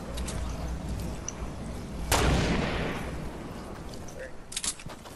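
Gunfire in a battle royale video game: a sharp, loud burst of shots around the two-second mark, then a few scattered faint pops near the end, under players talking.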